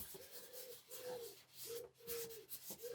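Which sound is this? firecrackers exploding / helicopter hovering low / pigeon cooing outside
pigeon cooing outside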